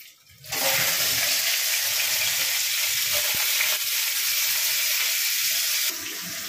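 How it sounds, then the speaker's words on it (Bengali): Green mango pieces dropped into hot oil with panch phoron burst into a loud, steady sizzle right after a quiet start. The frying hisses close up for several seconds and eases slightly near the end. "পাঁচফোড়নটা ভাজা হয়ে গেছে, এবার দিয়ে দিচ্ছি আমটা"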